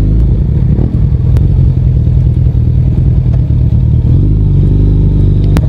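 A Suzuki Hayabusa superbike idling and revving as it picks its way off-road across a pipe crossing in a village, a loud, close engine rumble with clattering knocks.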